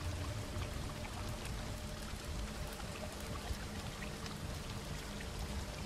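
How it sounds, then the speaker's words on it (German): Water flowing upward in a cave from Witcher 3: Blood and Wine, a constant full pouring rush with fine droplet spatter, steady and close with no pauses. "Das Wasser fließt nach oben,"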